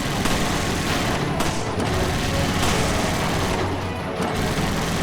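Rapid, dense gunfire in the Resident Evil 5 boss fight against Excella, continuous bursts of shots and blasts packed tightly together, loud and chaotic with no pauses.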